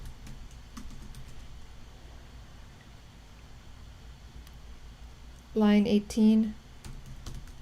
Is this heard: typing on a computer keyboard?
yes